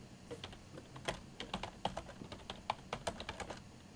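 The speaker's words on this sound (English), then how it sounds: "Oh boy, look at that typing." Typing on a computer keyboard, a quiet, irregular run of crisp key clicks close by, with brief pauses between short bursts.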